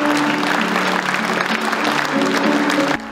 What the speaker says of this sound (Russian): судя по аплодисментам зрительного зала